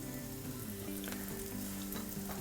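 Red onions sautéing in a hot pan, a steady close sizzle running the whole time with a few soft stirring scrapes and no voices.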